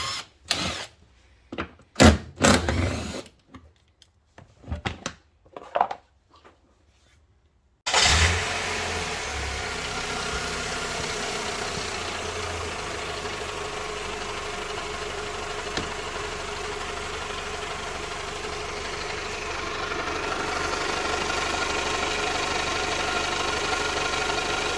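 Toyota 2.2L 5SFE four-cylinder engine running at idle with an oil leak at a seam, a steady, close mechanical hum and rattle after several seconds of scattered handling noises.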